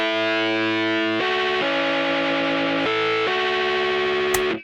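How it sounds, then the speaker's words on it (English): Piano run through a guitar-style pedal board effect for indie game music, heard alone as loud, sustained, distorted chords that change several times and cut off abruptly at the end. "So to get it to sound more like a guitar, I added the pedal board effect once again."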